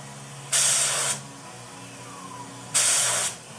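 Two short bursts of paint spray hiss from a spray gun, each about half a second long, separated by a quiet pause.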